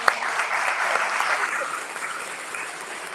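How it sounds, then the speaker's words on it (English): An audience at a mayoral candidate forum hosted by an African American club gives a short round of applause for the candidates, dense and steady with a sharp initial clap, fairly close and tapering slightly. "Please give a round of applause for all of our candidates."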